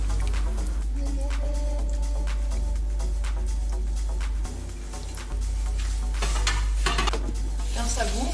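Green beans sizzle and crackle in a hot paella pan as a utensil stirs and scrapes through them, a steady close frying hiss with clinks and scrapes that swell louder toward the end, no talking.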